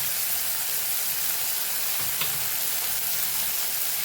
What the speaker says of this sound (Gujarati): આપણે ટમેટું પણ ઉમેરી દઈશું, એને આપણે સાતળી લેવાનું છે।